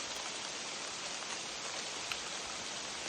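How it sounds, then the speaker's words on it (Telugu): Heavy rain pours near Kondapalli fort, a dense and even wash of falling drops that holds steady throughout with no voices. "ఫుల్ వాన"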